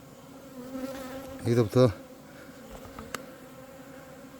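Bees buzz around the spot where their hive stood, a steady droning hum with a couple of louder close passes as someone talks over it.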